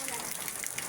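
Heavy rain pouring down, a steady dense wash of falling water with no pauses, loud and close throughout the short moment.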